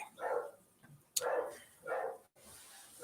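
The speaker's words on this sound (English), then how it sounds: "Keith, please stop that dog from barking" An old dog, about sixteen, barking indoors in a sewing room while waiting to be fed, several distinct barks spaced apart, moderately near.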